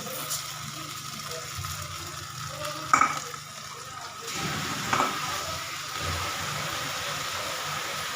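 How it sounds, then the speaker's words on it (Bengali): Curry being stirred in a pan after water is added, a low sizzling hiss with a couple of scraping knocks from the utensil, steady and close. "একটু জল দিয়ে দিলাম দিয়ে আবার একটুখানি নাড়াচাড়া করে নিলাম"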